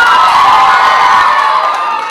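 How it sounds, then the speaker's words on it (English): An audience at a book launch bursts into loud, dense applause and cheering, a continuous wash of clapping and shouting that holds steady and only slightly eases toward the end. "A big round of applause to that"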